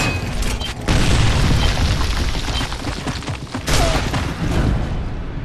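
Gunfire in Gears of War during a ranked Execution match on the Haven map gives two heavy, booming blasts about three seconds apart. Dense, loud rumble fills the space between them.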